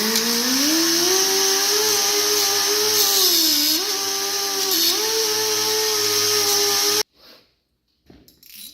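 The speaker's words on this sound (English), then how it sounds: "So I want to grind off this pin with a die grinder." Die grinder whining steadily as it grinds a pin off a vehicle lift chain: a loud, continuous high-pitched tool drone with slight pitch dips for about seven seconds, then it cuts off into near silence with small clicks.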